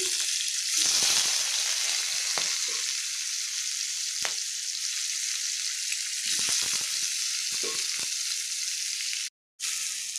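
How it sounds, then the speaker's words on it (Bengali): Chopped onion frying in the oil used for fish and chillies makes a steady, close hiss with occasional stirring knocks, cutting out briefly near the end before the sizzle resumes. "এবার দিয়ে দেবো পেঁয়াজ কুচি"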